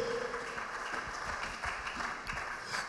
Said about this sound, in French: Acclame la parole de Dieu, acclame très très fort la parole de Dieu